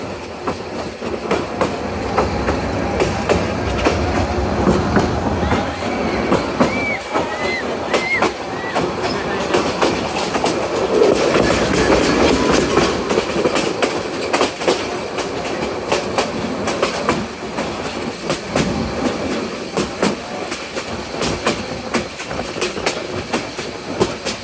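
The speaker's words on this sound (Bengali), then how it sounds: "দুরন্ত গতিতে হেলে দুলে চলছে ঢাকা অভিমুখী কিশোরগঞ্জ এক্সপ্রেস" Kishoreganj Express passenger train bound for Dhaka, running at speed and swaying, with a steady loud roar and continuous clickety-clack of wheels on rails, faint squeals, heard from on board.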